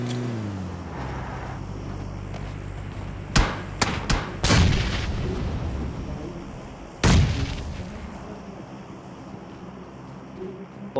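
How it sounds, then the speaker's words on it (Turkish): A grenade goes off in PUBG Mobile on the Erangel map: sharp, loud blasts roughly a few seconds apart, with a couple of smaller cracks nearby, over a low, steady game rumble. "Bomba attım ha."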